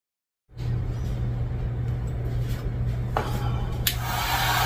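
Heat gun blowing steadily close by, shrinking heat shrink tubing over crimped car audio wires, a constant fan-driven whoosh with a low hum, starting suddenly and running alone with a couple of faint clicks.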